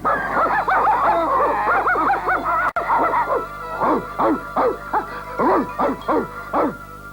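Cartoon dogs from Scooby-Doo barking and yipping in rapid bursts, loud and close, the barks falling into a quicker rhythmic run of yelps toward the end.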